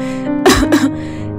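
A cartoon fairy who is unwell gives a short burst of two harsh, loud coughs close up over a steady background tone.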